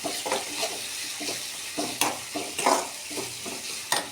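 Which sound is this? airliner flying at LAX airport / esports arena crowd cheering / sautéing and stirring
sautéing and stirring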